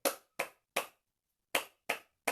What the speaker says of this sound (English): We're going to do it again with 3 claps.